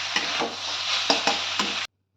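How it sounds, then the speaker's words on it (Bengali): Spices and small diced potatoes for chana masala sizzling in a pan, with a few sharp scraping stirs of a spoon over a steady fry, ending abruptly. "সবগুলো একসাথে ভালো করে কষে নেব।"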